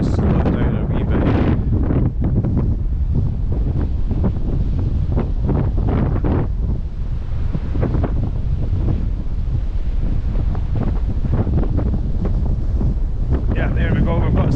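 Strong wind buffets the microphone beside the River Spey at Arndilly in Scotland during February salmon fishing, a loud continuous roar with gusty surges throughout, no talking.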